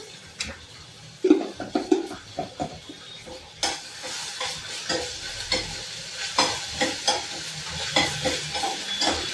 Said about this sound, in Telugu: ఇప్పుడైతే అల్లం పేస్ట్ వేస్తున్నాను ఇంట్లో